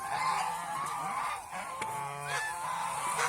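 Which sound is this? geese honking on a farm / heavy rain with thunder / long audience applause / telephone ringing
geese honking on a farm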